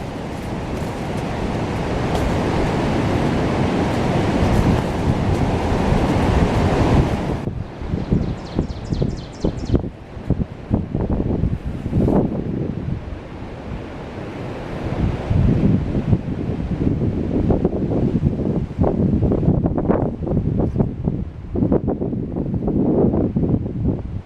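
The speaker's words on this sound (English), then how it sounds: "it is awfully windy in here, or up here." Strong wind buffets and roars across a microphone high up at Linville Gorge, North Carolina, for a long stretch, gusting in bursts with rustling and rumbling, no talking.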